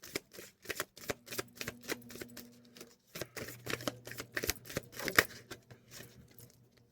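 Oracle cards being shuffled give off repeated crisp riffling and slapping bursts in an uneven rhythm close by, with a faint low hum underneath and a short pause midway.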